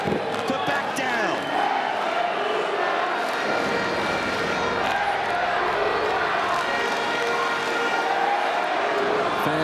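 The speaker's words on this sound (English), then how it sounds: "Fans starting to chant." A wrestling crowd at a Major League Wrestling show in Tijuana chants and roars, a loud, continuous mass of voices with rising rhythmic cheering that fills the whole stretch.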